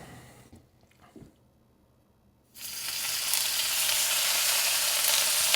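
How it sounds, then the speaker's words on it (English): Steak drops into hot oil in a pan and erupts into a loud, close sizzle that builds and holds steadily, after a few seconds of quiet handling noises and small clinks. "We're gonna put our steak in."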